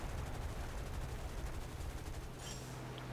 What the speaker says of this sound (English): The sound that the cannons make on this thing is just awesome.